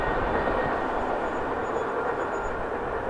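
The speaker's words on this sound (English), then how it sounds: "Fast train right there." A fast CSX freight train rushes past, its steady rumble and rolling wagon noise carrying at moderate distance with no talking.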